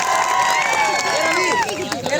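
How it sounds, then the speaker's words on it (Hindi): A large crowd at a political rally roars and cheers, with whoops and shouts over a dense wash of clapping and noise, loud and close throughout. "एक बार जोरदार आपके लिए तालियां बजा दी जाए"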